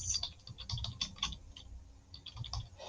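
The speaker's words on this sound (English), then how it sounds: "I'm going to type in my student's" An email address being typed on a computer keyboard: quick, irregular clicks and taps of keys in steady bursts, close and fairly quiet.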